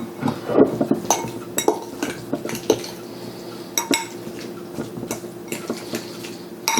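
Jalapeño popper filling of spicy breakfast sausage, bacon, parmesan, cream cheese and jalapeño is mixed in a bowl. A utensil knocks and clinks repeatedly against the bowl in uneven bursts, close up and without talk.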